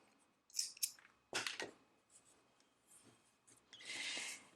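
Scissors snipping crochet yarn on a boho blouse project, a few quiet close clicks and brief rustles of thread handling.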